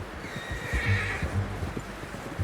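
A horse whinnies close by in Red Dead Redemption 2, its call rising and falling over a couple of seconds, with soft hoof clops and movement underneath.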